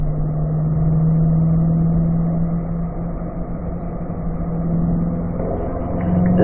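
A Chevrolet C8 Corvette engine on the Spring Mountain race track, a steady mid-pitched drone held at part throttle while coasting through a turn, swelling slightly near the end as the throttle comes back on.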